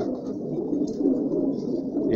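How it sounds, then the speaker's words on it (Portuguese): Pigeons with their chicks in a breeding loft give soft, low, continuous cooing and murmuring, faint and close, with no talk. "Os pombos estão com filhote aí ó."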